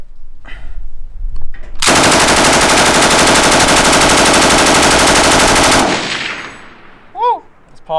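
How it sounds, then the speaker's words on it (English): An MG42 machine gun fires one loud, continuous burst of about four seconds, dense and unbroken from start to finish, with quieter handling noise before it and a short whoop afterward. "This is an MG42."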